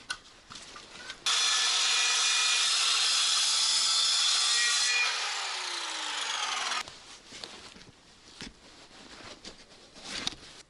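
A miter saw spins up and cuts a slot into wood, a loud, steady high whine lasting several seconds that drops in pitch as the blade slows, framed by quieter handling sounds and faint clatter before and after.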